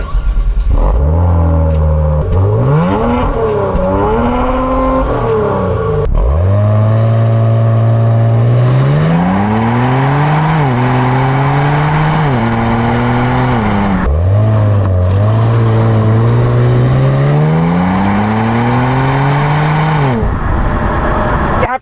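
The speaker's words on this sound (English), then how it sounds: "And now you get a factory fitted variable sports exhaust, which sounds better" 2022 Kia Stinger GT with factory variable sports exhaust, revved repeatedly and loudly close by, the engine note climbing and dropping in several blips and longer sweeps with no talk over it.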